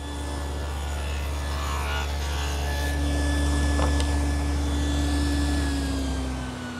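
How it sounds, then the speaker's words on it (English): A quarter-inch dado head cutter on a table saw cuts a groove into the edge of a plywood toy chest tray, a loud steady whine with a grinding cutting note over a low motor hum, ending as the blade spins down. "make a quarter-inch groove in the center of 2 edges of the plywood tray using my quarter-inch dado head cutter"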